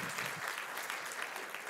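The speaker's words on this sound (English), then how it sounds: "An applause for Max." Faint, distant applause from an audience welcoming a think-tank research director onto a panel at an anniversary celebration, continuous clapping heard alone for a short stretch.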